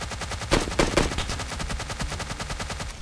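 Rapid SKS rifle gunfire in PUBG Lite, several loud sharp shots in quick succession followed by a steady burst of fire, with no talking.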